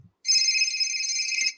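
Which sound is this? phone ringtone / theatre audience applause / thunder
phone ringtone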